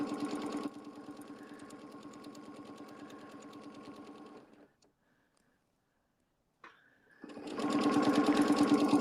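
A sewing machine runs in fast, even stitching bursts while quilting a log cabin panel with rulers, stopping for a couple of seconds of near silence before starting again at full speed.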